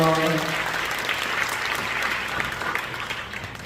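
People at a church teachers' seminar clap in thanks after a closing prayer. Dense, full applause follows a brief voice at the start and tapers slightly toward the end.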